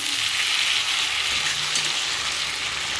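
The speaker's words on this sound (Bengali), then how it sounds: "আমি আবার একটু নেড়ে দিচ্ছি" A flat bean and potato curry sizzles loudly in a pan while being stirred, a dense continuous frying hiss with faint scraping underneath, no talking.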